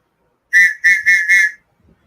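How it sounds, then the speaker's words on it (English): A cheap plastic survival whistle gives four short, shrill blasts in quick succession, loud and close, with silence before and after. "Yeah, it's a whistle."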